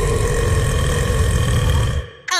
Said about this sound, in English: A really, really big burp.